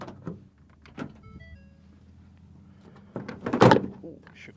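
A repaired Ford F150 fuel door is tried out: soft clicks and a brief mechanical whir sound close by, followed by a louder latch clunk and rattle near the end, with a person talking briefly.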